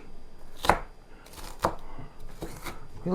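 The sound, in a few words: chopping an onion finely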